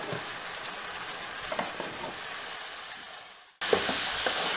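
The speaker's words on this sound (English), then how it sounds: "You want to make sure to mix that salt into the pachownie and the spice mixture really well" Salt being stirred into pachownie meat and spice mixture in a pot, a steady sizzling, scraping texture with soft spoon knocks that drops out briefly before resuming.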